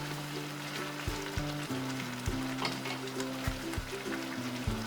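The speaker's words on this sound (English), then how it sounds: "Curry started to boil." Kerala koottu curry boils in a pan, giving a quiet, steady bubbling with irregular soft pops and plops throughout.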